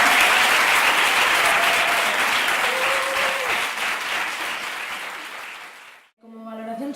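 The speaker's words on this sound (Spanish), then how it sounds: "Creo que las podemos volver a aplaudir muy fuerte." A theatre audience claps loudly and steadily after a social-theatre workshop performance, sustained applause for about six seconds before it cuts off and a voice begins speaking.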